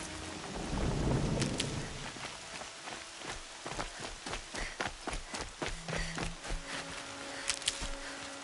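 Rain and rolling thunder in the video game Horizon Zero Dawn: a deep thunder rumble swells early, then patters of rain and scattered footsteps or impacts continue at moderate volume.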